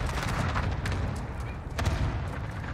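Gunfire in a Call of Duty Warzone match, dense crackling shots and bursts running throughout at steady loudness with no clear gaps, with heavier thumps standing out near the start and again toward the end.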